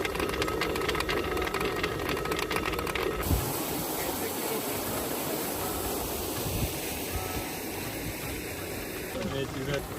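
Flour being ground in a mill at an ashram in Uttarakhand, a steady, loud mechanical drone and rumble that continues throughout, with voices talking over it.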